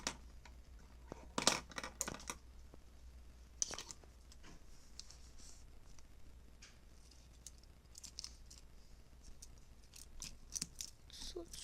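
Scissors snip at plastic iPod 5 packaging in a few quick, close, sharp cutting bursts, with quieter scattered clicks and rustles across a low background hum.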